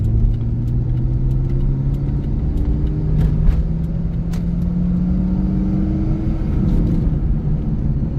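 A 2000 Chevrolet Corvette's engine on a test drive, heard from inside as a loud, continuous low rumble with rising drone tones as it gains speed and small ticks and clicks over the top.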